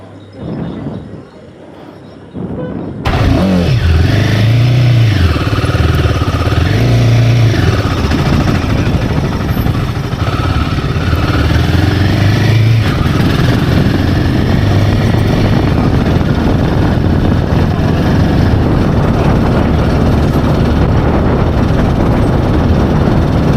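Royal Enfield Himalayan motorcycle ridden on the road between Mumbai and Pune, engine droning loud and steady with heavy wind rush after a quiet start, gear changes shifting the pitch, faint voices underneath.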